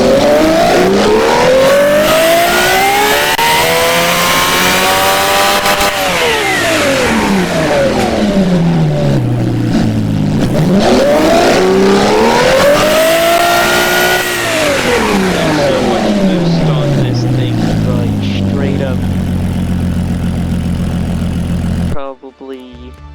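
A quad-turbo V12 engine in the game Automation revs hard in long rising and falling sweeps, climbing to high pitch, dropping back, then revving again before cutting out abruptly at the end; loud and close with no talk.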